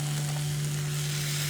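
Chopped tomatoes, finely chopped ginger, diced garlic and curry leaves frying in a pan while being stirred, giving a steady close sizzle with a constant low hum beneath and no talking.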